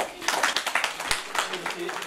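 An audience at the launch event of a women leaders' movement in Mali claps in a quick, steady rhythm, with a voice speaking over the applause.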